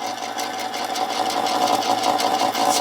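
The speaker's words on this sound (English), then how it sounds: "this little Manson lathe is now taking a finishing cut on a piece of aluminum" A small Manson 2-inch lathe takes a finishing cut on aluminum under auto feed, giving a steady, close mechanical whir with a busy, slightly rattling texture that holds continuously without any talking.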